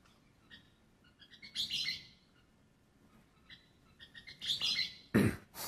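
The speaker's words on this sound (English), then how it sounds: "I'll compare that to a Western kingbird" A Western kingbird calls in two bursts of sharp chirps and sputtering twitters, fairly clear against a quiet background, ending in a louder harsh squawk-like note.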